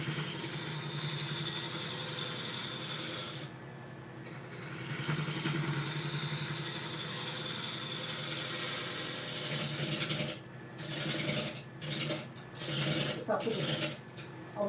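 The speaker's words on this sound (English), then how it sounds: "It's nice using this bowl gouge" A bowl gouge cuts into a very large pear tree burl spinning on a wood lathe, giving a steady, close rasping scrape that carries throughout and swells into rougher, choppier bursts near the end.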